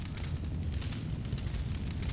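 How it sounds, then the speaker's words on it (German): Fire roaring and crackling in the PS1 video game Breath of Fire 3, a steady, dense rushing burn holding at a constant level throughout with no talking. "Hört sich das an wie Feuer?"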